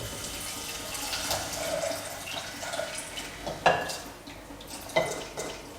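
Water poured into a pressure cooker holding beans, a running trickle and splash with a few sharp metallic knocks of the pot toward the end.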